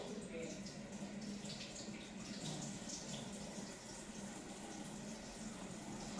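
Cold tap water runs steadily while salmon is rinsed at a kitchen sink, a constant close splashing hiss that fills the whole stretch at low volume.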